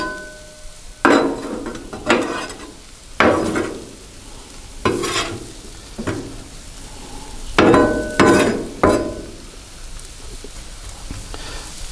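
Shrimp and vegetables fry in a pan, with a spatula stirring them in irregular bursts of scraping and hissing over a continuous sizzle, close and moderately loud, without speech.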